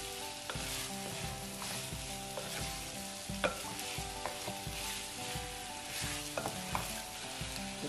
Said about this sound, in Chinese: 接下来加入我们的糖，把它炒至融化。